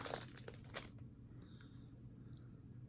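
Quiet crinkling and rustling of a plastic package bag being opened comes in short bursts during the first second, then fades to faint room noise with a couple of light clicks.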